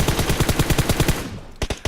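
Full-auto M4 rifle fire in PUBG Mobile, a rapid even burst of about a dozen shots that cuts off, followed by a couple of isolated shots.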